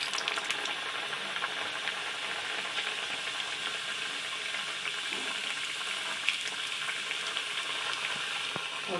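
Stuffed mawa gujiya fry in hot oil in a kadai, giving a steady, close sizzle and crackle that runs throughout with no speech.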